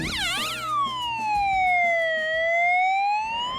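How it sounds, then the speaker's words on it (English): A police-style siren on an Audi A8L security car wails loudly and continuously, its pitch sweeping up and down in a close, steady tone with no voices over it. "So if the siren wasn't enough to get attention"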